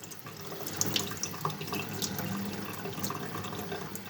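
Water runs steadily into the boiler of a 1970s Mamod toy stationary steam engine, a close, continuous tap-like flow with faint splashes and no talking.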